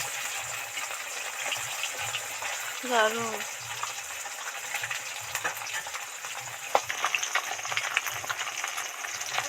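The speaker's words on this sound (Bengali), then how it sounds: "মাছগুলো কত সুন্দর ডিপ ফ্রাই করে ভাজা হয়ে গেছে" Pieces of bata fish deep-frying in hot oil in a pan give a steady, dense sizzle throughout, with a brief voice partway through.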